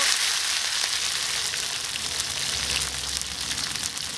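Sweet potato vines hitting hot oil in a wok with ginger and garlic, a steady dense sizzle of frying that holds close and loud throughout, with a low rumble building near the end.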